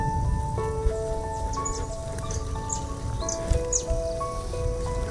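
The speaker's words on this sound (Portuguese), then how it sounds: "Os passarinhos já deu pra escutar" Small birds sing outdoors during a bicycle ride through a run-down Guaratiba neighborhood, their clear, repeated whistled notes fairly close over a low rumbling background, with no talking.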